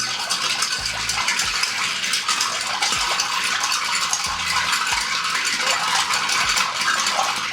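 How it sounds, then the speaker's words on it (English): A Fernet Branca cocktail is stirred with a steady, continuous clinking and swishing that runs throughout, alone and at close range. "we just stir this."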